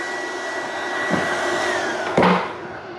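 A magnetic induction heater working on a rusted bolt gives a steady electrical hum with a faint whine that slowly drops in pitch, then a brief louder clunk near the end before the hum eases off.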